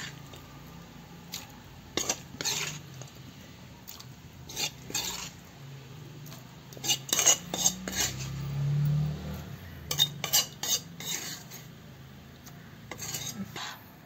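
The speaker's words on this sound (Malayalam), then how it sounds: "എന്നിട്ട് നമുക്ക് കൊഞ്ച് വഴറ്റിയതും തക്കാളി ഉള്ളി എല്ലാം കൂടെ വഴറ്റിയതും നമുക്ക് അതിനകത്തേക്ക് കോരിയിടാം." Sautéed prawns, tomato and onion scooped from a pan into a pot, heard as irregular metallic scrapes, clinks and taps of a spoon against cookware at close range over a low background hum, without speech.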